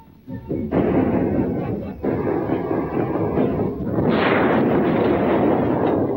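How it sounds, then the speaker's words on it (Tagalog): Explosions in an animated show, a series of loud booming blasts and rumbling that build and swell into a sustained roar, with a voice heard briefly beneath. "may mga pagsabog na nagaganap ngayon"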